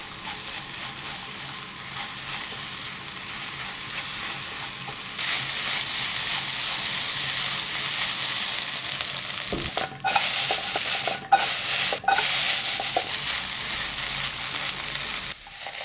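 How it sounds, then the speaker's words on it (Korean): Egg fried rice stir-fried in a pan over high heat, a loud steady sizzle that surges as the rice goes in, with scraping stirs and a few sharp clacks of the utensil against the pan. "충분히 볶아지면 센 불로 올리고 계란밥을 부어 후다닥 볶아줍니다."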